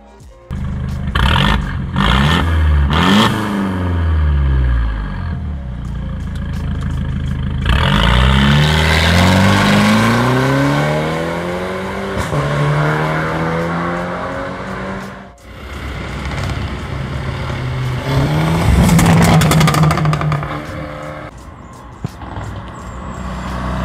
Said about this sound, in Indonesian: tadi udah ngerasain performance-nya dari C200 B205-nya Bro Ibi.